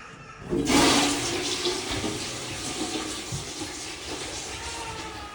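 A toilet flushes indoors: after a moment of quiet, a loud rush of water bursts in, then settles into a steady, gradually fading flow of refilling water.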